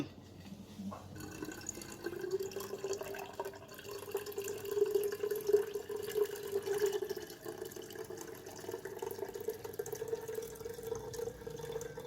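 Cocoa kombucha is strained, its liquid poured off and separated from the cocoa pulp, making a steady close trickle and gurgle of pouring liquid that swells in the middle and runs continuously.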